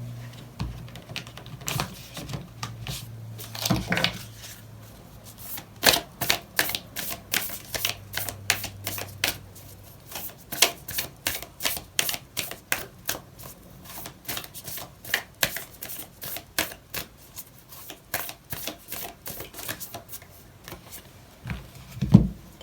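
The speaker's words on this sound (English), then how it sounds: "I'm going to pull out an oracle card" Oracle cards being shuffled during a tarot reading, a long run of quick, crisp riffling flicks and soft snaps that come in dense bursts, close and moderately loud, with no one speaking.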